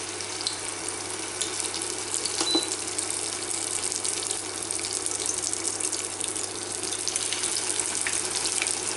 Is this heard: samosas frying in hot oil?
yes